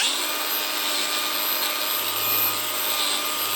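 Power tool with a cotton polishing disc buffing a stainless steel washer, a steady, loud high-pitched whirring drone that holds constant without pause.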